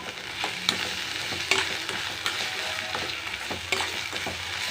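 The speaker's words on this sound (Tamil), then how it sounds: "ஸோ இப்போ இதை நம்ம நல்லா வதக்கி விட்டுக்கலாம்." Ivy gourd sautéing in a pan with turmeric, chilli powder and salt, giving a steady close sizzle with occasional stirring scrapes and no talking.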